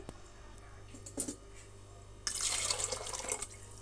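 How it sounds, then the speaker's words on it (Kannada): Water pours from a small pot into a cooker holding soaked dried peas. A faint splash and clink comes first, then a steadier rush of pouring for over a second, close up and soft. "ಈ ಚೆಂಬಲ್ಲಿ ನಾನು ನೀರು 2 ಚೆಂಬು ನೀರನ್ನು ಸೇರಿಸ್ತಾ ಇದ್ದೀನಿ."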